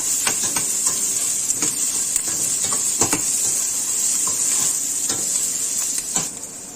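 Capsicum is stir-fried with gobi manchurian in a hot pan: a constant bright hiss of sizzling oil, broken by repeated clicks and scrapes of a spatula against the pan, close and moderately loud, with no voices.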